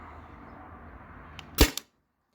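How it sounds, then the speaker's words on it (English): A Byrna TCR launcher loaded with PVC-coated steel balls fires once after a low background hum, giving a sharp, close crack with a quick smaller click just after, then silence. "I think I got like 1 or 2 more shots."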